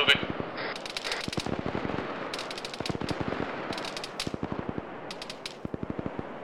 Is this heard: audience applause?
no